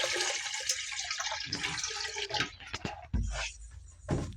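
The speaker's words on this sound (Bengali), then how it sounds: "চাল সেদ্ধ করে যে এই যে জল ভরা হচ্ছে হাঁড়িতে" Water runs into a cooking pot being filled for boiling rice during home biryani preparation, a steady rushing pour with a louder gush near the end, up close and without speech.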